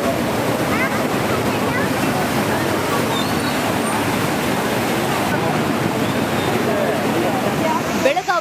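Floodwater from heavy rain rushes loudly through an overflowing stream in Karnataka, a dense, continuous roar that holds steady throughout.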